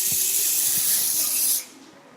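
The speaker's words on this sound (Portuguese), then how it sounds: "Passa o spray." Hair spray hisses in one steady, close burst onto the hair ends at a beauty clinic, then stops abruptly.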